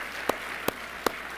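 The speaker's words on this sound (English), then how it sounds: "let me just pause and have us all give a big applause to Angie Covey and her" Audience at a scholarship brunch applauds for a team leader, a faint bed of scattered clapping with three sharp, evenly spaced nearby claps standing out.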